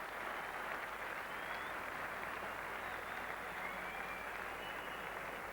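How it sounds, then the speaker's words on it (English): A cricket crowd at the Oval in London applauds during an England v Zimbabwe one-day international in 2000, a steady, even wash of distant clapping that holds throughout without a break. "Receiving a good hand from this crowd at the Oval."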